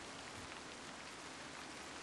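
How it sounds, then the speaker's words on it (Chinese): Rain falling as a steady, even hiss with no breaks, faint and alone, with no voices. "这下雨天，终究比不上大晴天来得好。"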